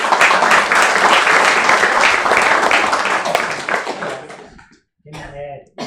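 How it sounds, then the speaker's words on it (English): A lecture audience breaks into loud, sustained applause at the close of the event, which fades out and gives way to a speaking voice. "Let's end this event again with round of applause"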